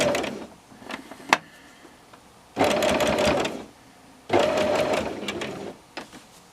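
A sewing machine stitches down a quilt binding in two sustained bursts of steady whirring, with short pauses between them filled by faint handling clicks and a sharp tap.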